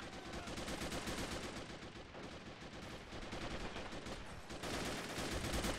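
A tank firing anti-tank rounds during a battle in Men of War: Assault Squad 2, heard as dense, continuous, faint gunfire and blasts that keep up steadily throughout.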